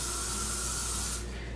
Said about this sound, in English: So I'll spray it for you really quick.